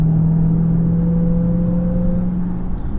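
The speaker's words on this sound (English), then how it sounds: "One thing that's undeniable is that supercharger whine is just glorious" A 2020 Dodge Charger SRT Hellcat Widebody with its supercharged Hellcat engine gives a steady, close droning whine over a low engine rumble, holding one even pitch for about three seconds with no talking.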